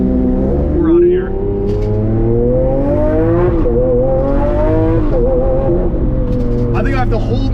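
Lamborghini Aventador SV engine revving hard under acceleration, a loud rising wail climbing through the gears with sharp shift breaks, heard from inside the car while someone talks excitedly over it.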